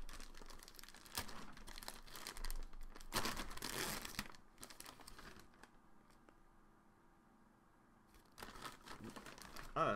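A shipped package holding a Supreme box logo hoodie is opened, with bursts of close plastic packaging crinkling and rustling, some tearing, and a quieter stretch in between.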